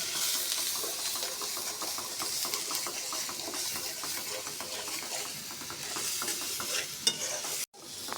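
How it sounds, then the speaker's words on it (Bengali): Chicken curry with sweet pumpkin sizzles and hisses in a pan while a spoon stirs it in steady repeated scrapes, loud and close, ending with a brief clatter and a cut. "ভালো করে একটু নেড়ে চেড়ে কষিয়ে নেব।"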